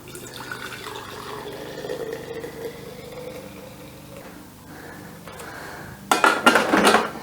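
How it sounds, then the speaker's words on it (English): Homemade soy milk poured into glass mason jars in a home kitchen: a low steady liquid trickle with faint clinks, ending in a louder burst of splashing and glass clatter. "So I'm gonna just pour it into my mason jars here."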